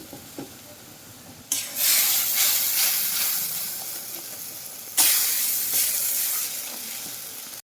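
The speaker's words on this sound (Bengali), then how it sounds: "এবার আমি যে মশলার মিশ্রণটা বানিয়ে রেখেছিলাম ওটা দিয়ে দিলাম সমস্ত কিছু দিয়ে কষিয়ে নেব একদম লো আঁচে" Spice mixture for a vegetarian pointed gourd and yogurt curry sizzling in a pan over low heat, with two sudden loud bursts of frying hiss that slowly fade into a steady close crackle.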